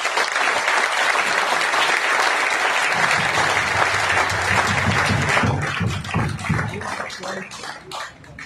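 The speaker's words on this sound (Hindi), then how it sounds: "चलिए एक बार जोरदार अपने लिए तालियां बजा सकते हैं।" Enthusiastic audience applause at a seminar in Hisar, a thick continuous roar of clapping that thins toward the end into scattered claps.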